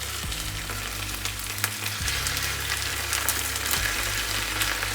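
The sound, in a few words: potatoes frying and being stirred in a pan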